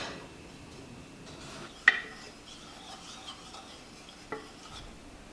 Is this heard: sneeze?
no